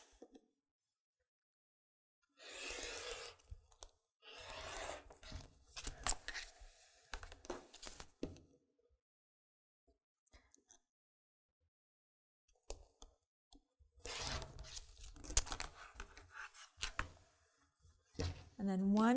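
Scissors cut through quilted fabric for a tote bag, sounding as close, crisp snips and soft crunching chopping in several bursts separated by quiet pauses.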